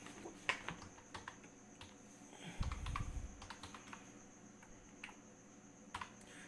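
Typing on a computer keyboard while entering a name into a slide, a quiet scatter of light key clicks at an irregular pace, with a brief low rumble partway through and no talk.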